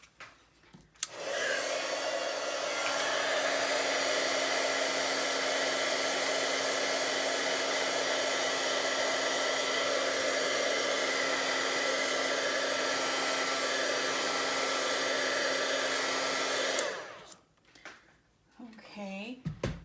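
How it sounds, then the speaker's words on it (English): Heat tool setting stamped ink on card, a loud steady blowing roar that starts abruptly, holds evenly for about fifteen seconds, then cuts off, followed by a brief rustle. "so now I'm going to heat set that because I don't want to smear it"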